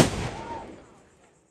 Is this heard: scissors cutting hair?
no